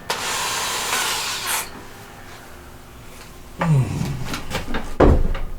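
Drill fitted with a Forstner bit boring into wood: a loud whirring spin-up that fades, then a short grinding bite into the timber and a final clunk, all close and without talk.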